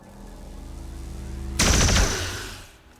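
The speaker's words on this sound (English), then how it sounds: "So what we'll do is we'll fire a pistol at this guy." A sudden loud burst of gunfire from pistol shots in the video game XCOM: War of the Chosen cuts in midway over a low game hum, then rings out and decays.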